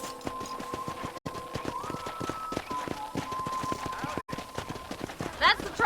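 Horse hooves clip-clopping at a steady trotting rhythm in Red Dead Redemption, close and clear, running on under talk with a tonal musical hum and two brief dropouts.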